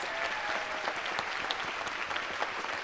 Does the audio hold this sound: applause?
yes